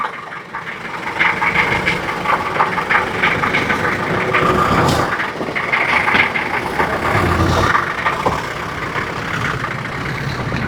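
A 1989 Daihatsu Taft GT 4x4 diesel, long left standing, idles steadily at close range with a continuous low rumble and rattle, holding a fairly even level for the whole stretch.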